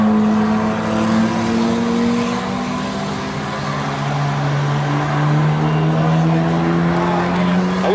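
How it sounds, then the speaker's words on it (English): Drift cars circle a race track at Gridlife 2019, their engines droning steadily with rising and falling pitch sweeps as they slide past at mid distance, heard continuously from a sheltered lounge with faint background chatter. "still watching the cars"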